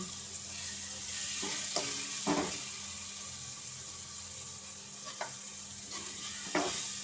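Spice powder sautéing in a pan over a low flame for a taro curry, a steady soft sizzle with a few scraping stirs of a ladle, close and alone.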